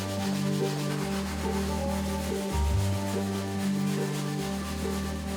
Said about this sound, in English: it's definitely taking some scrubbing